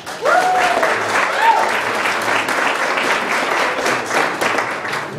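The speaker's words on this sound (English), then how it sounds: "So please, a round of applause for Josh Miller." An audience at an HRC reception during Nevada's Equality Days gives a round of applause to a steering committee member, sustained dense clapping throughout with a few cheers and voices mixed in.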